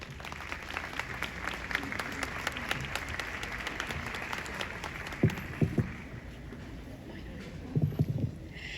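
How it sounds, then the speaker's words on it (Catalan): Audience applause for two student readers at a Holocaust remembrance ceremony for Buchenwald: a broad, steady wash of many hands clapping, moderately distant, gradually thinning out with a few isolated knocks and thumps near the end. "Un fort aplaudiment"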